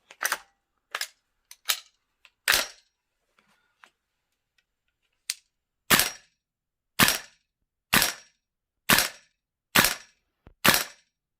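Sharp single shots from a VFC SR25 gas blowback airsoft rifle crack out one at a time, first irregular and then in an even rhythm about once a second, close and crisp with silence between.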